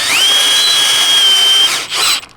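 A cordless impact driver used for driving screws and bolts whines loudly and steadily at close range, then drops off, briefly revs up again and stops, with no one speaking.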